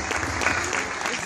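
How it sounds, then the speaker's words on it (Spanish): A brief burst of audience applause at a Star Wars fan event costume contest in Argentina, dense clapping over about a second with voices mixed in. "un aplauso, por favor"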